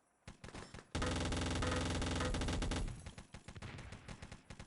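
Mounted MG machine gun fire in Wolfenstein: Enemy Territory, a sustained loud rapid burst of about two seconds between scattered nearby single shots and clicks, with no talking.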